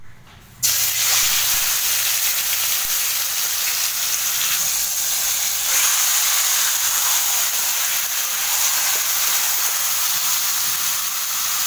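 Marinated chicken drops into hot oil in a pan and erupts into a loud, close, continuous hiss and sizzle that holds steady for several seconds after a quiet start.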